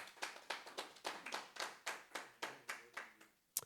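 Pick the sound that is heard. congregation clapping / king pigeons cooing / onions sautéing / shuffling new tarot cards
congregation clapping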